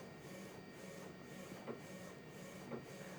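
A Flashforge R2 Pro 3D printer hums and whirs steadily at low volume, with soft motor chatter and a couple of faint clicks.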